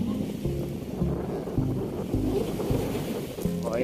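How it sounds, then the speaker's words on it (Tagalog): Waves surge and crash against the shore at Manila Bay's Dolomite Beach, a constant low rumbling wash of surf with recurring heavier pulses, heard from nearby with no talk. "So, panibagong lakas ng hampas ng alon."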